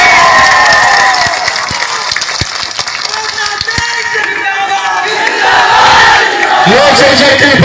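A large crowd at a Lok Janshakti Party political rally for Chirag Paswan roars, clapping and shouting loudly in a continuous dense swell, with voices calling out over the din.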